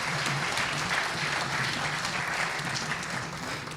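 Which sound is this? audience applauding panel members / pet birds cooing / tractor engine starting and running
audience applauding panel members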